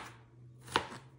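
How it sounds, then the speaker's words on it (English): A knife slices through an onion with a single crisp cut against a board, faint and close, over a quiet room hum with no talk. "I'm just slicing up 1 onion"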